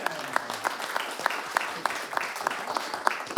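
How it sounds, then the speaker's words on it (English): A short burst of scattered hand clapping from a small crowd at a city council meeting, steady and moderately loud throughout. "So can we please give her a round of applause?"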